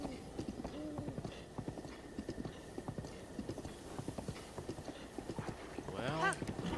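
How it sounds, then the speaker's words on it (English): A horse gallops across Hyrule Field in Zelda: Breath of the Wild, with steady rapid clip-clop hoofbeats throughout and a short whinny near the end, while a player talks over the game sound. "I could hold on to this horse."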